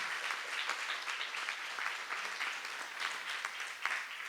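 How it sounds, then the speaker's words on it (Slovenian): A school audience at an awards ceremony in Ravne na Koroškem gives a steady round of applause for the pupils of Prežihov Voranc primary school, with even, fairly faint clapping throughout and no voices. "Še enkrat velik aplavz za vse učence osnovne šole Prežihov Voranc."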